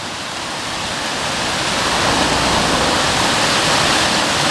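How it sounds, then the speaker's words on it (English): A fast, high, peaty river in Scotland swollen after rain rushes in a loud, steady roar close by, with no voices over it. "So the river's running high. Fast and high."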